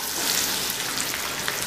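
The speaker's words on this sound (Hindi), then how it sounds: "चलाएंगे ताकि हमारा लाल मिर्च जो है वो फ्राई हो जाए" Red chili powder frying in hot oil in a pan while being stirred, an early step of a creamy fish curry; a steady, close sizzle with no talk.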